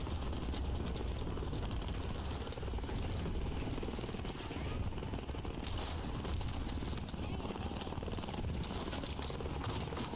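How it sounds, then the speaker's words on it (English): A helicopter in Call of Duty Black Ops 6 gives off a dense, continuous rotor roar that holds steady and loud for about ten seconds, with a voice talking underneath. "Ah, this must be the chopper I'm taking."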